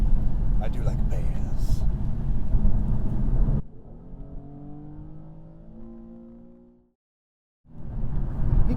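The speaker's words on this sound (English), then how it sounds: "He did the little downshift thing" A car engine downshifting on a city street: after a stretch of rough, busy noise, clear rising engine notes climb over a few seconds, then cut to silence before the noise returns.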